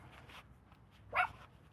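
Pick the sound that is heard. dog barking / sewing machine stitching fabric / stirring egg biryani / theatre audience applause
dog barking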